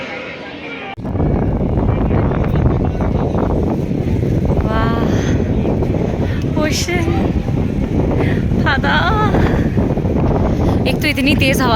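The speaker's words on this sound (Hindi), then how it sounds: "एक तो इतनी तेज़ हवा चल रही है ना" Strong, steady wind buffets the microphone at Vivekananda Rock in Kanyakumari, a loud continuous roar with voices and crowd chatter faintly mixed underneath.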